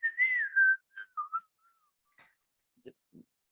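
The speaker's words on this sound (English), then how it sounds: "It's a lovely little song, and the whistle song." Someone whistles the whistle song from the animated Robin Hood, a few short wavering notes in a brief phrase, faint and close, followed by soft trailing sounds.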